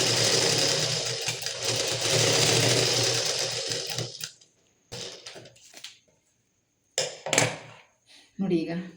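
Sewing machine stitching a plain blouse, a steady loud whirring run for about four seconds, then short start-stop bursts of stitching separated by pauses.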